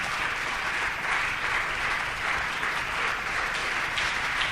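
A church congregation claps loudly and steadily in worship, a dense, continuous wall of applause that holds at an even level throughout, with no voices standing out.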